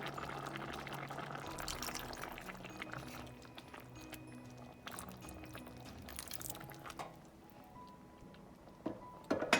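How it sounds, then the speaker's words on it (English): Water poured into a pan of cooking red lentils, a soft trickling pour over gentle simmering bubbles, fairly quiet, fading toward the end. "I'm just going to add a little bit of water"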